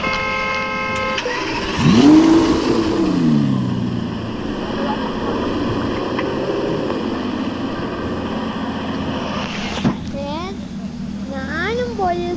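A motorbike engine revs up and falls away nearby among traffic, with horn-like tones and a steady engine drone, and people talk over it.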